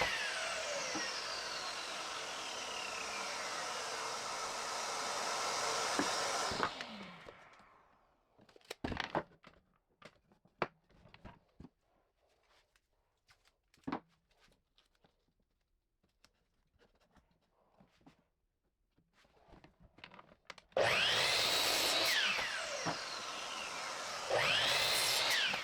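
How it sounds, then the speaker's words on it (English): A miter saw slices through a 2x4 wood board in two loud bursts, the motor whining up and winding down each time, with quiet shop clatter and small knocks in between. "on the miter saw, cut 4 4-inch parts"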